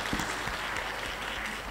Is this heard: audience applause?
yes